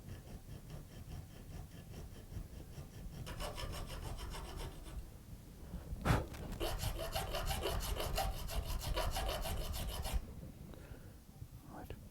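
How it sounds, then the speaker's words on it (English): A hand saw rasps back and forth in quick, steady strokes, cutting a slot into a screw held in a vise during shotgun disassembly, pausing briefly, then resuming with a sharp clink partway through; close and fairly quiet. "We're going to saw the slot in between the two punch marks."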